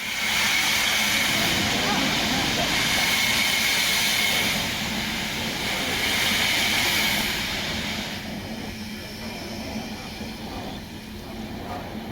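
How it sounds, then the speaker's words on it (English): Steam locomotive 75069 pulls away with its drain cocks wide open at a winter steam gala on the Severn Valley Railway, a loud continuous roaring hiss of steam with rhythmic chuffing beneath, easing slightly toward the end. "With drain cocks wide open to warm the cylinders up and prevent hydraulic lock, 75069 starts away to head up the next train south"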